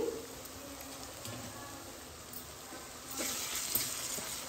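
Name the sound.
ginger garlic paste and curry leaves frying, stirred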